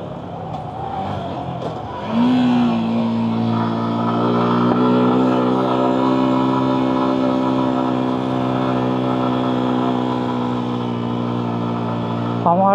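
A motorcycle grinds up a steep, rough hill road toward Sajek in first gear, its engine note jumping after a couple of seconds into a loud, sustained, strained drone that holds steady close by, with no talking.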